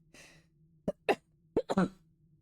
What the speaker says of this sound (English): There's going to be a lot of coughing.